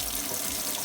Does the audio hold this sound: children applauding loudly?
no